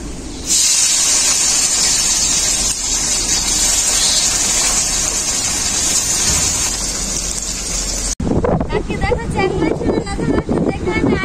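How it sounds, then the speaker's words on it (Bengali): Small puti fish hit hot oil in a pan with a loud, steady sizzle and spattering hiss that runs for about eight seconds, then the sound cuts to someone talking close by over fainter frying. "তেলটা খুব ভালোভাবে গরম হয়ে গেছে। এখন আমি মাছগুলো ভেজে নেব।"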